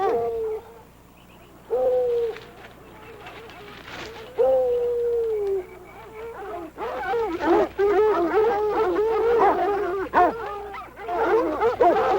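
Tracking dogs baying and howling on a scent trail outdoors, long drawn-out cries at first, then a dense overlapping chorus of several dogs giving tongue, moderately close and steady.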